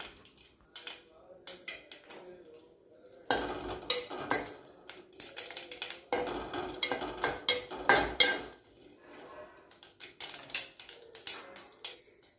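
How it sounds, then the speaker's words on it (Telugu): Green chilies are stirred in a pan until their moisture dries off, heard as close, irregular clinks and scrapes of a metal spoon against the vessel, some in quick runs and others spaced apart. "ఈ నీళ్ళ తడి ఉంటుంది కదా, అది ఇంకే వరకు కలుపుకోవాలి"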